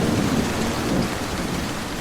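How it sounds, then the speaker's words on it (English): Steady, dense rain pours throughout a thunderstorm, with a low rumble of thunder rolling under the hiss of the downpour, close and continuous with no voices. "we have noise from thunder,"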